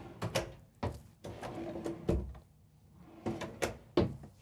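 Drawers in the closet of a Newmar Essex 4551 luxury Class A motorhome slide open and shut in a run of sharp knocks and sliding rumbles, close and fairly loud, with no talking.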